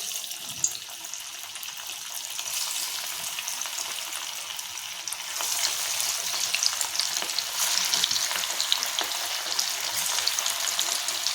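Small balls of bombil fritter batter frying in hot oil, a steady bubbling sizzle that swells louder about halfway through as more batter goes in, with no one talking.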